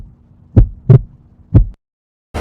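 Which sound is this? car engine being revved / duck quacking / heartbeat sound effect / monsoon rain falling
heartbeat sound effect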